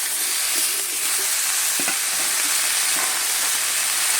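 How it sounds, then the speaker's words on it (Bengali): Cut cucumber, potato and bitter gourd frying in a pan give a dense continuous sizzle, with occasional soft scrapes as the pieces are stirred together, no voices. "সব কিছু এবারে বেশ সুন্দর করে একটু মিশিয়ে নেব।"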